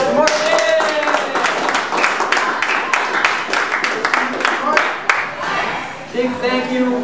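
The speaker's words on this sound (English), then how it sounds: "Everybody clap for Mark." A small group claps at a mixed martial arts gym during a prize giveaway, sharp distinct claps in an uneven rhythm, close and loud, with voices talking over them.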